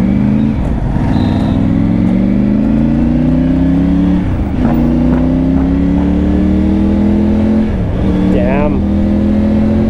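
A Triumph Tiger 900 fitted with a Scorpion exhaust, baffle removed, revs hard in repeated rising bursts with a deep, loud, close engine drone; a voice briefly speaks over it.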